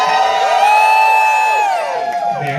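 A comedy roast audience screams, whoops and cheers loudly, a sustained wall of crowd noise with high shouted whoops rising and falling before it starts to die down.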